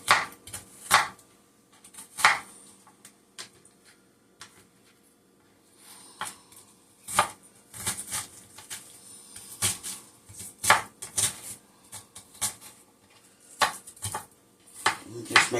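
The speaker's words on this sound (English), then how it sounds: "Just make sure that my onions are cut down nice size pieces." A kitchen knife chops a whole onion into pieces on a cutting board, loud repeated knocks in an uneven rhythm, with occasional voice in the background.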